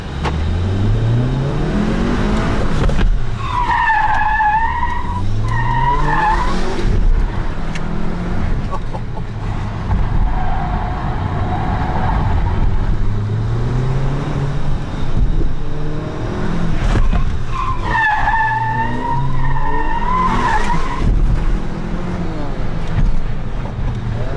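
A Cupra car runs at about 40 km/h toward an obstacle, its engine revving up and down in bursts with brief high tire squeals, heard near and loud against steady road noise.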